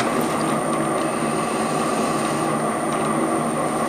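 A pipe bending machine switched on at low rotation speed gives a loud, steady mechanical drone with a constant high whine, continuous and close, with no talk.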